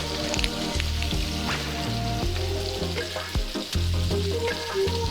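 Chicken pieces fry in an electric skillet set to about 300 to 325 degrees, giving a loud, continuous sizzle with a low rumble. Occasional clinks and stirring scrapes sound up close.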